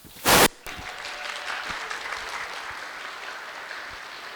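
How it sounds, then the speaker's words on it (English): Brief burst of audience applause at a Lunar New Year celebration, loud for about half a second, then fading into a lingering room hum and murmur. "Please give them a round of applause."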